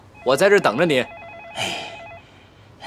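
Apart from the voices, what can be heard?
telephone ringing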